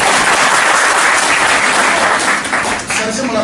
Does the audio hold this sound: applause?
yes